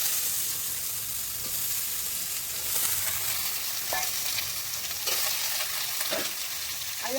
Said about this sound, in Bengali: ভালো করে ভাজা ভাজা করে এখন আলু আর সোয়াবিন দিয়ে অনেক কষাবো।